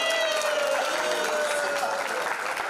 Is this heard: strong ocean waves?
no